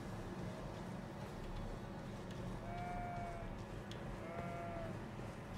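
Sheep bleat a few times in the Elden Ring video game, faint wavering calls over a constant droning music and ambient bed, with no talking.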